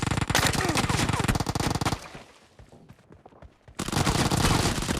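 Uzi submachine gun fire in the PUBG video game: loud, rapid automatic bursts, then a short pause of near-quiet, then another sustained burst of fire.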